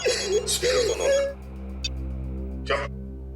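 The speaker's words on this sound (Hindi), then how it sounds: "सर उस चश्मे वाले का फोन।" Telephone ringing during a scene of the Hindi crime drama series CID: a sustained electronic ringtone with a steady tonal buzz, heard close and loud alongside a speaking voice.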